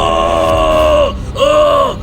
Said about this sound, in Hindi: वो दर्द के मारे जोर जोर से चिल्लाने लगा